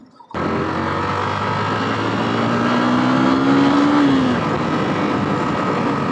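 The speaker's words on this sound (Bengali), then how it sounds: "তো গাড়ি এক্সস্ট সাউন্ডটা অনেক ভালো সুন্দর একটা স্পোর্টি ফিল আছে" A car drives slowly along a village road, its sporty exhaust giving a steady, close engine drone that swells briefly as the engine revs higher, then settles back, with no talking.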